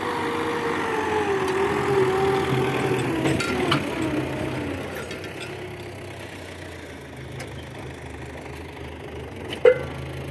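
A YUMZ 4x4 tractor engine runs steadily at a low, rumbling idle while discing a field, with a faint rattle and one brief knock near the end; no one speaks.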